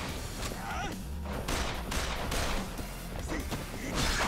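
Gunfire in Yakuza Kiwami 2 rattles in muffled, repeated bursts amid thuds and crashes, fairly loud and continuous, mixed with game sounds and some talk.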